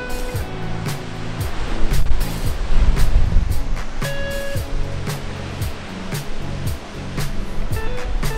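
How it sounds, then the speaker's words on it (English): A large waterfall near Seattle roars as a loud, continuous broadband rush of falling water, close by and steady throughout, with some low rumbling and intermittent background tones but no talk. "this is probably the biggest waterfall I've ever seen, like ever"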